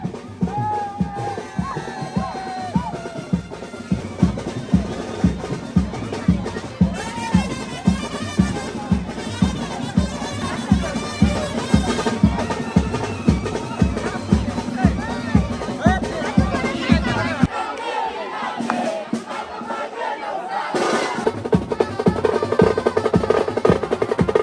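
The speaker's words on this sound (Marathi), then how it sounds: "आज भरपूर म्हणजे भरपूरच असते गर्दी" Crowd of devotees packed at the Ekvira temple, a dense babble of many voices with rhythmic thumping, steady and close for most of the stretch, briefly thinning before swelling again.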